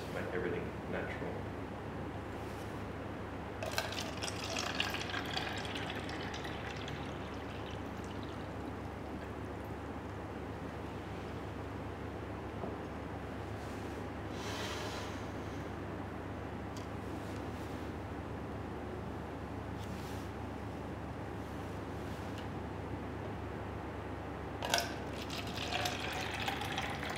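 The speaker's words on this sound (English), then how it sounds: "I'll pour the water from each beaker into three identical cups." Water poured from beakers into three identical cups, heard as intermittent splashing and trickling bursts over a low background hum, with a speaking voice present throughout.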